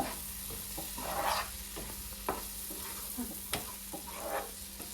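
Freshwater river mussels cook in a covered pan with a few drops of water, a close, steady sizzle broken by several sharp scrapes and clinks.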